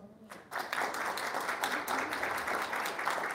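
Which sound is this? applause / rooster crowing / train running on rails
applause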